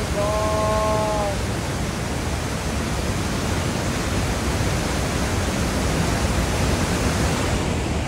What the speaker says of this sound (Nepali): पानीको राफ आइरहेको छ